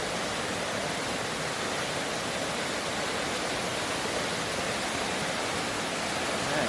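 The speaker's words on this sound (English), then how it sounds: "That's a lot of water coming over those things." Dry Falls near Highlands in western North Carolina sends a heavy flow of water pouring over rocks, heard from behind the falls as a constant, loud, unbroken roar with no voices.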